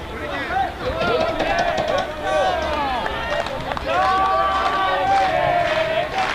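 Baseball crowd at a Kelowna Falcons vs Victoria HarbourCats game cheering and shouting in a steady, lively roar, with individual voices rising above it throughout.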